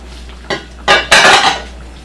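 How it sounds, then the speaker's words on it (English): A spoon scrapes and clanks against a pot of baked ziti being stirred, three quick metallic bursts growing louder, close and alone with no talk. "Let's give this pot a stir."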